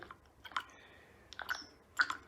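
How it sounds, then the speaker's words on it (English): Oil pump on a Nissan A14 engine being turned by hand during priming, giving three separate wet, squelchy clicking bursts spaced about half a second to a second apart, close and fairly quiet. "You can hear there's proper oil in that little pump now."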